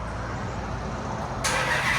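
A 2015 Dodge Challenger R/T with a 5.7L HEMI V8, six-speed manual and Flowmaster 40 Series exhaust gives a brief, steady low rumble close by that swells slightly louder at the end.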